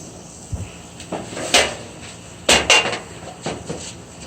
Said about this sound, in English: Let's cut that onion up.